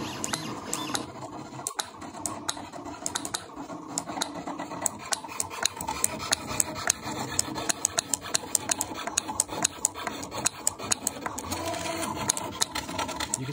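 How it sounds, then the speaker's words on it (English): A vintage Roland DXY pen plotter runs its self-test, its motors whirring and buzzing steadily as the pen head travels around, with a rapid train of sharp clicks and taps from the pen lifting and dropping. "You can see the XY plot moves around and then it lifts the pen head up and down"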